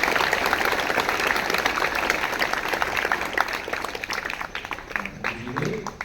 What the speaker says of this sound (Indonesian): Tepuk tangan dulu buat Bapak.